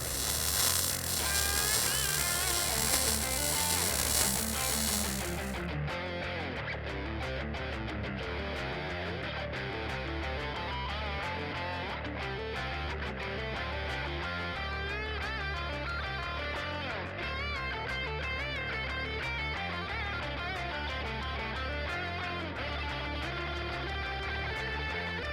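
A suspension bracket is welded onto the frame of a Ford F-150 prerunner truck, giving off a continuous crackling buzz up close. The sound runs harsh and hissy for the first few seconds, then settles into a steady electric sputter.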